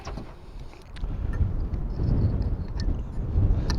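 Wind buffets the microphone outdoors on a metal-detecting field, a low roaring rumble that swells and fades in uneven gusts, growing stronger toward the end.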